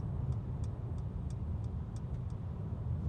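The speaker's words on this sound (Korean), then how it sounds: "자, 좌측으로 차로 변경 한번 할게요. 좌측 깜빡이." A car's left turn signal ticks in a steady, even rhythm of about eight clicks over a low continuous road and engine rumble inside the cabin.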